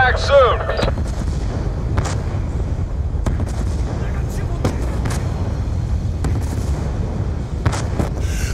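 Mortar blasts and gunfire rumble continuously through a Call of Duty Black Ops battle, with repeated sharp shots over a dense low boom, and a voice briefly heard near the start.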